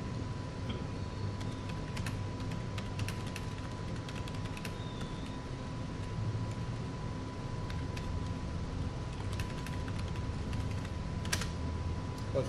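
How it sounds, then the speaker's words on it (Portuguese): Steady computer keyboard typing runs throughout over a constant background hum and a faint tone, recorded during a testimony deposition; individual keystrokes are soft and fairly even, with no speech. "Você vai falando e ele vai digitando também."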